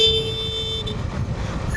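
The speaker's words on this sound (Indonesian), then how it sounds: "Tidak perlu alasan apapun untuk klakson di sini." A car horn blares in a short steady toot over rumbling traffic in New Delhi, close by and loud.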